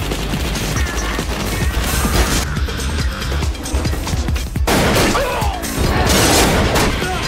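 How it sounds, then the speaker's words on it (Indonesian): Intense shootout between police and drug dealers in the film Sniper 3, heavy automatic gunfire, rapid bursts and crashes tumbling over one another, loud and chaotic throughout. "sontak memicu terjadi baku tembak antar polisi dan bandar narkoboy"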